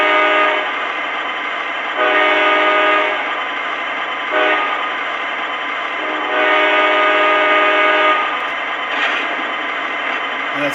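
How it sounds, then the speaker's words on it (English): An MTH ES44AC model locomotive in a Christmas edition plays its crossing-signal horn sequence: loud, steady blasts in a long-long-short-long pattern with a constant mechanical hum underneath. "crossing signal,"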